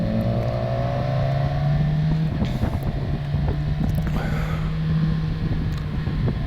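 A motorbike rides a country road on a Spruce Mountain day ride, its steady engine drone holding a low note and rising slightly, close and continuous under heavy wind buffeting.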